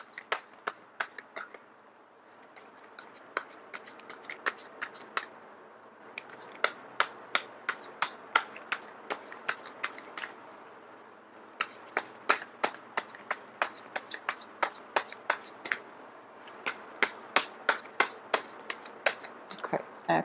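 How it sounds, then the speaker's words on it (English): A deck of tarot cards being shuffled by hand, heard as rapid bursts of crisp snapping card riffles and taps, clustered in runs with short pauses, close and fairly quiet with no talking. "I am going to shuffle until the first card drops out."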